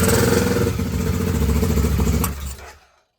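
BMW F650 GS motorcycle engine running loud and close with a rough, uneven idle that stumbles, then cuts out and stalls, falling to silence near the end.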